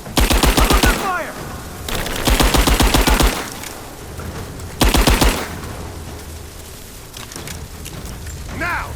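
Three bursts of automatic gunfire in Rise of the Tomb Raider, each a loud, rapid string of shots lasting about a second, separated by rumbling ambience and shouted combat voices.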